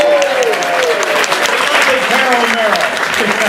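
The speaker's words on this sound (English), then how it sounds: "let's get a round of applause for our sound effect cue card girl." Applause fills the hall at a Transformers fan convention, dense and steady for several seconds, with voices and shouts rising through the clapping.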